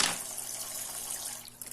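A toy kitchen sink faucet runs water steadily for a short stretch, a faint, close hiss and splash with a few small drips at the end and no talking.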